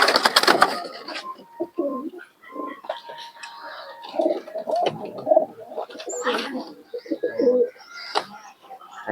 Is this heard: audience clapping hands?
no